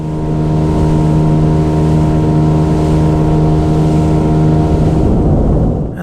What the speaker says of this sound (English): my main purpose of the day was to test the engine, and it was running sweet as a nut